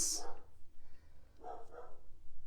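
A dog barks loudly indoors, a few sharp barks at the start and another pair near the end, with quieter room sound between.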